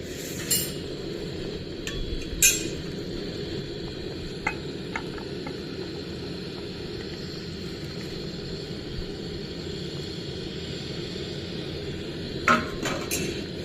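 Fish curry simmering and bubbling steadily in a pot, a soft continuous boil with occasional sharp metallic clinks of a utensil against the pot.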